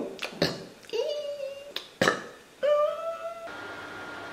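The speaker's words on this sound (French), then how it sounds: "Quand je rote, c'est génial." A couple of short, loud burps from an adult woman, close to the microphone, separated by brief breathy sounds and a bit of vocal noise.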